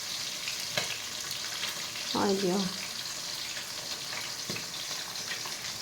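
Boroli fish fries in hot oil with a steady, close hiss of sizzling and a few soft pops, and a brief voice speaks over it.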